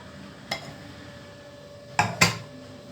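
Cooked wheat rava with egg is scraped onto a plate, giving a single soft clink of utensil on dish, then a quiet gap and two sharper metallic scrapes close together near the end, over faint background hiss.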